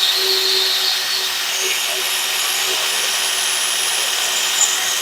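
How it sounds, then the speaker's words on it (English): Power drill boring a hole with a 1/4 inch bit while mounting retractable ratchet straps on a Jolly Dolly HD, a continuous high steady whine held at a constant level from start to finish, close by. "and we're going to drill this hole."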